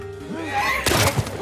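A horse in The Last of Us Part II whinnies with a rising and falling neigh, followed by heavy hoof thuds and clattering, close and loud.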